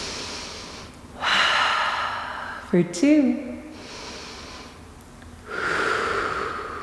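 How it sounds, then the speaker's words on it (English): Slow, deep breaths during a yoga stretch for the hips and lower back, drawn as long airy inhales and exhales, with a short spoken count in the middle of the breaths. "Breathing here for 3."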